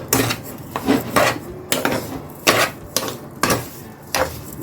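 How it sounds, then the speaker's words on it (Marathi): A spoon stirs a coconut and sugar mixture in a pan over low heat for coconut barfi, giving repeated scraping, clinking strokes in an uneven rhythm, close and fairly loud with no voices. "आणि चमच्याने ढवळत राहायचे नाहीतर हे आपलं लागू शकते परत खाली"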